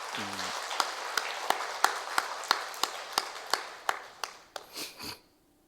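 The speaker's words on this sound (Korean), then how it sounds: "우리 박수로 한번 축하합시다." A Sunday church congregation claps to congratulate an elder newly elected as association president, a sparse, slowing series of distinct hand claps that ends in a few final claps before silence.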